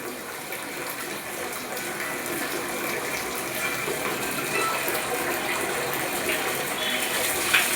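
Water gushing steadily from a pipe during a handpump line wash, a continuous rushing flow that strengthens slightly as it goes, close by.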